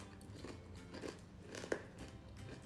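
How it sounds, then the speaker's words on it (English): Close, crisp crunching and chewing of Carnivore meat snack crisps, with a few sharper bites standing out over steady mouth noise; no talking. "I love to hear the crunch"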